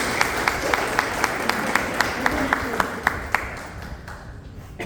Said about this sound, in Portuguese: Palmas para vocês, palmas para Deus.